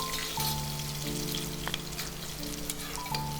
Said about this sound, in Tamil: சின்ன வெங்காயம் கொஞ்சம் கலர் மாறது வரைக்கும் வதக்கிக்கலாம்